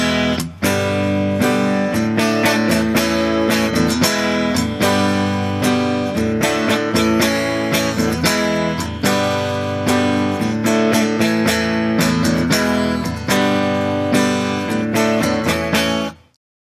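Guitar chords strummed quickly in a fast, even rhythm, bright and close, continuing steadily without pause before stopping abruptly.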